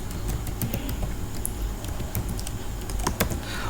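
Soft rapid keystrokes on a computer keyboard while code is typed, a steady close patter of clicks with no talking.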